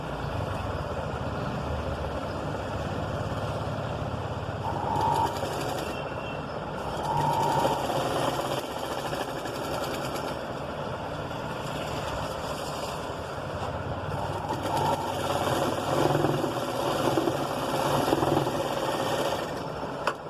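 A sewing machine stitches a patch onto a six-year-old child's blouse, its rapid needle clatter running steadily and close for long stretches, with brief pauses and shifts in pace.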